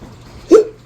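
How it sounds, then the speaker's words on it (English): A man cooking a Viking feast with chopped yellow onion lets out a single short, close hiccup against a quiet room background. "I don't know why I get damn hiccups."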